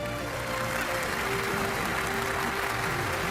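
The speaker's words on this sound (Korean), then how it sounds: "한 번 더 축하의 박수로 함께 해주십시오." Applause at a company promotion ceremony honoring a master-rank business partner with a trophy and pin, a steady dense clapping that fills the whole stretch under faint background sound.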